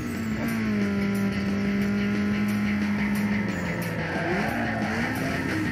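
A car in Need for Speed Underground 2 skids with a long, loud tire squeal over a droning engine, the pitch wavering and sliding as the car slips.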